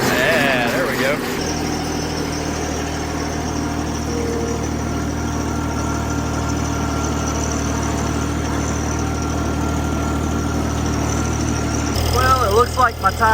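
A Mahindra Emax compact tractor, only a couple of years old, idles steadily after firing up, its low, even engine drone running loud and close for over ten seconds.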